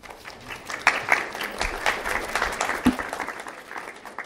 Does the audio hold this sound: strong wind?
no